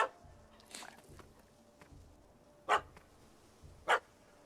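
A puppy barks twice in a Witcher 3: Hearts of Stone scene, two short sharp yaps standing out clearly a second apart over quiet ambient background.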